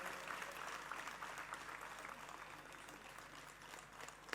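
Audience applause at a political rally in Ambarnath, steady dense clapping from a crowd that holds at an even level for several seconds without talk.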